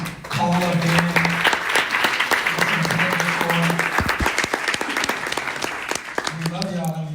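An audience at a business network event breaks into sustained applause, a dense close clatter of clapping running under a man's speech and fading toward the end.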